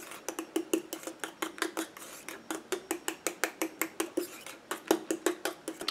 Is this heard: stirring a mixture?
yes